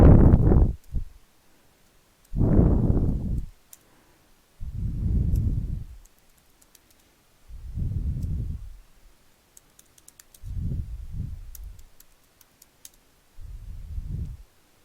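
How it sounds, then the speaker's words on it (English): Someone types a password on a computer keyboard in several short bursts of clicking keystrokes. Quiet pauses separate the bursts, and the keys sound close and clear. "I typed the wrong password."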